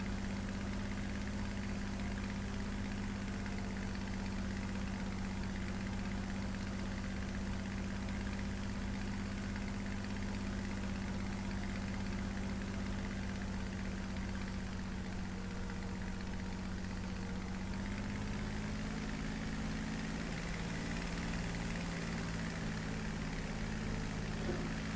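In War Thunder, a damaged engine with a blacked-out indicator runs on steadily and unbroken, a low droning hum with a faint knock. Its pitch drops a little partway through and there is no talk.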